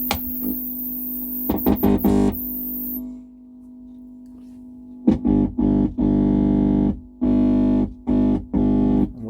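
Electric guitar through an Ampmaker WF55 valve amplifier kit driving a test speaker, loud distorted bursts and chords with gaps of near silence between them.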